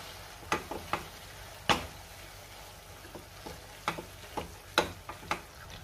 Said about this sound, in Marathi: आपण पुन्हा एकदा मिक्स करून घेऊया आणि पावभाजी मॅशरनी थोडंसं मॅश करून घेऊया